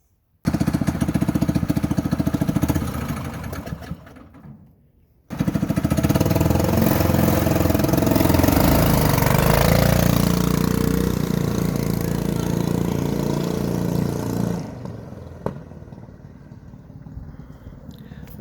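A small CycleKart engine chugs loudly up close, cuts briefly to near silence, then restarts and runs hard with a rough, throbbing pulse before easing off toward an idle near the end.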